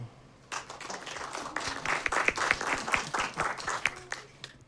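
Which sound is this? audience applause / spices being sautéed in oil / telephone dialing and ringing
audience applause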